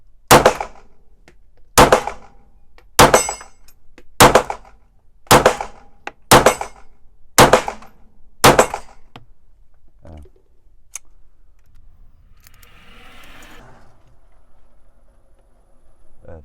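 Eight sharp, loud pistol shots from a Browning 1911 Black Label .380 crack out at a steady pace roughly a second apart, each with a short ring, followed by quieter handling and shuffling noises.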